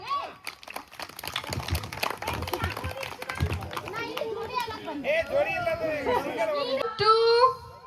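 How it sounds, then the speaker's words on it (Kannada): Children and guests at a birthday party with balloon decorations, a burst of scattered clapping near the start under lively children's chatter and shouts that carry on throughout. "ಒಂದ್ಸಲ ಅವ್ರಿಗೆಲ್ಲ ಜೋರಾಗಿ ಚಪ್ಪಾಳೆ ಬರ್ಲಿ"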